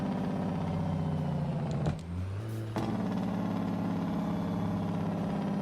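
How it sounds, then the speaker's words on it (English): A heavy truck's engine brake rumbles in American Truck Simulator with a modded engine, a loud, continuous throbbing drone that dips briefly partway through, then resumes steadily. "Oh yeah, that Jake sounds purty."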